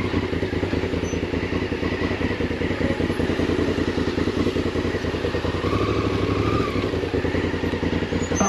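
A Honda CRF off-road motorcycle engine runs continuously over rough black-diamond trail, its steady drone mixed with clattering and thumping from the terrain, loud and close throughout with no speech.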